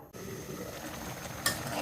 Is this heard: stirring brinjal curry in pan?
yes